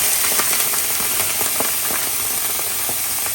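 Canned tuna fish frying in hot soybean oil in a frying pan, a loud, steady hiss and crackle of sizzling with scattered pops throughout.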